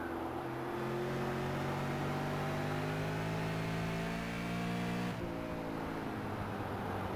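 Super Late Model race car engines in the iRacing sim roar at a steady high pitch through a short-track race, several cars layered together, with a sharp shift in tone near the end as the field passes.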